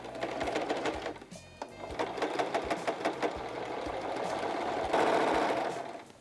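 A sewing machine runs back and forth stitching a backstitch on fabric at a dressmaking table, a close, fast mechanical chatter with a brief pause before it resumes and speeds up.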